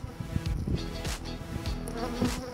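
Bees in a hive built inside a shingled roof drone in a dense, steady buzz close by, with no voices over it.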